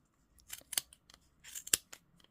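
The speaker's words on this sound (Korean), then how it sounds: "이 홈에 가위가 들어가거든요." Scissors snipping through crochet yarn for a winter hat, several quick crisp cuts in an irregular rhythm, close and fairly quiet with no talking.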